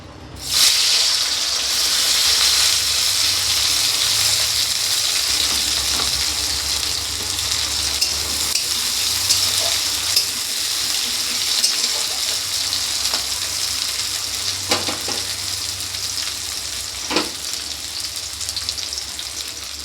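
Onions sizzle loudly in hot oil in a wok, a close and continuous frying hiss with a few faint knocks, and no talking.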